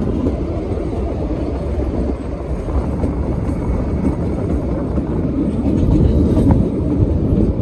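A toy train runs along its tracks on the mountain route to Shimla, heard from on board as a steady, continuous low rumble with faint rattling and no talking.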